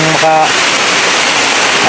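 Steady rain falls outdoors during a bird-hunting outing, a loud, dense hiss throughout with a brief voice near the start.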